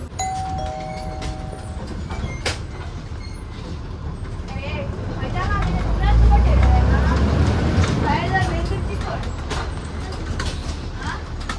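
A Kadamba bus rolls along the Vasco to Korjai route, its engine rumbling steadily and swelling midway, with rattles, a ringing bell tone and people talking over the noise.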